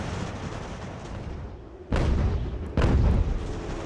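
Mortar artillery fire in the video game Ultimate General: American Revolution: two heavy, rumbling booms about a second apart cut loudly through a steady battlefield ambience.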